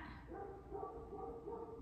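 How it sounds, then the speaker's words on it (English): A neighbouring dog barks and yips briefly in the background, faint and distant indoors, a short run of muffled calls. "that's my neighbor's dog chiming in on the video"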